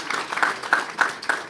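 Audience applause for President Mike Sucko at a live event previewing the Alabama A&M versus Alabama State Magic City Classic. Short, moderately loud bursts of clapping swell and fade in quick waves.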